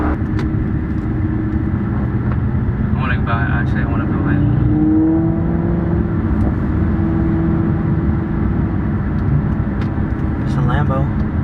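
A Lamborghini supercar cruises on a highway, its engine a loud continuous drone with steady road rumble throughout, while people talk briefly over it inside the car.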